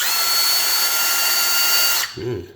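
A Milwaukee M18 FUEL 1/2-inch high-torque impact driver whines steadily at high speed for about two seconds, then cuts off abruptly, leaving a brief low thump.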